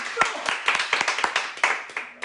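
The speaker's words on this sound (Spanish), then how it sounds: "Un fuerte aplauso para el Padre Diego." An audience claps for Padre Diego in a scattered, uneven way, with separate sharp claps rather than a full roar, and voices are heard among them.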